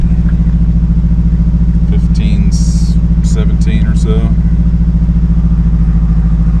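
A Mazdaspeed 3 engine, with a part stuck closed and a fuel smell, runs loud and steady at held raised revs with a fast, pulsing throb, while someone speaks briefly over it.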